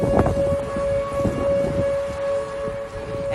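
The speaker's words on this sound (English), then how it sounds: "that's the sound of tornado sirens going off in Dallas" Tornado warning sirens wail steadily across Dallas, a loud sustained civil defense tone holding throughout over a rumbling outdoor backdrop with wind-like noise.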